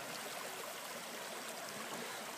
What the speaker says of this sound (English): Listen to the flow of the water.